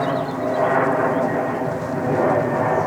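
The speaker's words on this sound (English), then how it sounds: "There's another bloody plane again" A propeller or jet airplane drones steadily overhead above a formal Italian-style garden in Chester, a continuous rumble lasting throughout with a faint voice beneath it.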